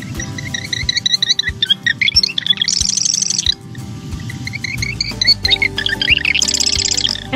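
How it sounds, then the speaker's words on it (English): A marsh wren sings in a cattail and bulrush marsh, its busy, rapid rattling trills repeating in bursts over a constant low hum, fairly close and clear. "I always think it's the bird that sounds so busy in the marsh. Marsh wren."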